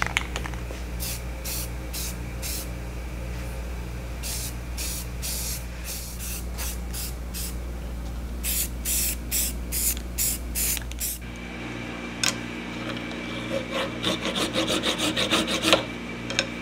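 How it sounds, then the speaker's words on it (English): Short hissing bursts of gray primer spray repeat in a rhythm of quick pulses, with scraping and rubbing sounds under a steady low hum, during restoration of a Hardinge Cataract bench lathe. "spray it with gray primer and sand it down again"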